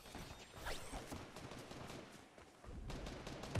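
Gunfire in the video game Fortnite, a dense stretch of rapid, repeated shots that keeps up nearly the whole time, loud and close with no talk over it.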